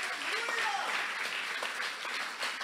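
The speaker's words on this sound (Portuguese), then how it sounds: "Dê um aplauso ao Senhor." A church congregation claps in praise during a sermon, a dense, continuous burst of applause with a few voices and shouts mixed in.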